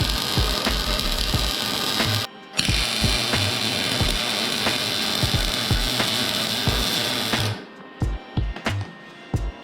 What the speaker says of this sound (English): Let's just weld this up like that.